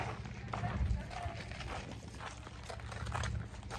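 Cows and sheep moving about on a farm near Meknes, Morocco, with soft, muffled hoof steps and shuffling at a fairly low level, blended with faint background murmur.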